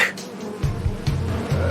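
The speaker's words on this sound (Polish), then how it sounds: "Kwiaty zwabiły głodne pszczoły!" Bees buzz in a continuous low drone, close and steady, swelling slightly in a few places.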